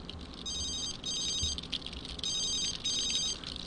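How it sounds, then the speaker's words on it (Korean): A telephone rings in the video game The Sims 3 with repeated electronic trilling bursts in pairs and short gaps between them. It sounds clear and steady over faint background noise, with no talking. "전화 오는 거 다 쌩까."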